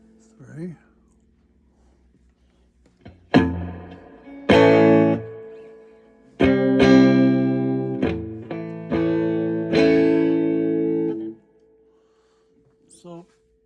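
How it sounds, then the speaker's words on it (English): Electric guitar played through a Fender '64 Vibroverb Custom amp with spring reverb: single plucked notes and chords ring out, each trailing a splashy, shimmering reverb tail, with pauses between phrases and a final faint pluck. "good sounding reverb, spring reverb."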